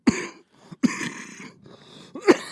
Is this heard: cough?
yes